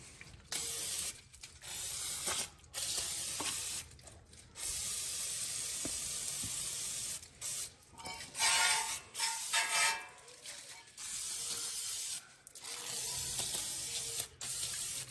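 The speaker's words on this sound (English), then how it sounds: "now I'm gonna hit the caliper itself and the hub as well as the bracket with some brake cleaner" Brake cleaner sprayed in repeated bursts onto the front brake caliper, hub and bracket of a 2016-2021 Honda Civic, loud close hissing blasts separated by short pauses, with no talk.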